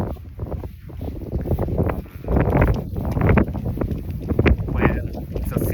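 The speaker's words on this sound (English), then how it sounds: "The wind is too strong." Strong wind blowing outdoors during a walk along a road, buffeting the microphone with loud, gusty rumbles and flutters in uneven surges, while a person talks over it.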